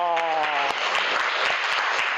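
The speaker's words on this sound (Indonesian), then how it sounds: "Tepuk tangan dong" A classroom audience at a teacher-training session breaks into steady, dense applause after a short stretch of a voice speaking, with the clapping filling the rest of the moment at a fairly close, even level.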